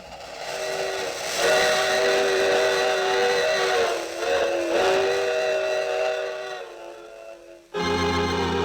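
A train whistle blows long and loud, wavering slightly in pitch, then cuts off before a second blast begins.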